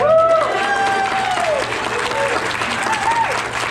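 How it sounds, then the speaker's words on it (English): A crowd gives a round of applause for Colby at a Denali expedition presentation, with clapping running throughout and voices or cheers rising over it. "Round of applause for Colby."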